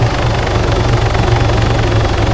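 A helicopter in the military game Arma 3 thuds loudly and close, its rotor beating in a fast steady rhythm over a constant engine roar, with no talking.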